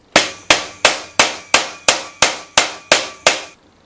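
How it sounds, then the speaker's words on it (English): A metal tube used as a hammer drives a collar down onto wood, ten sharp, loud, evenly spaced strikes in a steady rhythm, each ringing briefly before the next, with no talking. "The answer is to use the remaining tube as a hammer to push the collar down."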